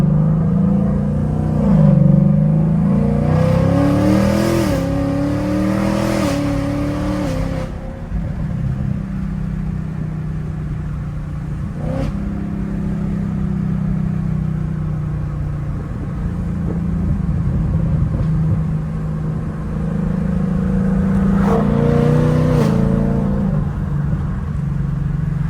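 A Ford Mustang S550 with an aftermarket exhaust rumbles loudly from inside the car while driving, rising in a couple of revving pulls early on and again near the end.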